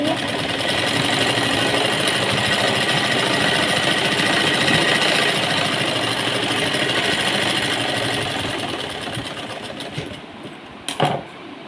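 A sewing machine runs steadily, stitching a cuffed sleeve for about ten seconds, its motor hum and needle chatter loud and continuous before tapering off near the end with a couple of brief knocks.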